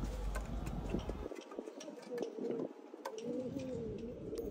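Pigeons of an old rare breed coo softly in a home loft, low murmuring calls repeating amid light scattered ticks and rustles, fairly faint and close.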